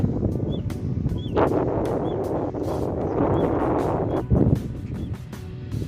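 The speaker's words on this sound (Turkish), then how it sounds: "Rüzgar çıktı." Steady broadband wind rushing across the microphone for several seconds at a carp fishing spot in a bird sanctuary, with low rumbling gusts and a few faint bird chirps in the background.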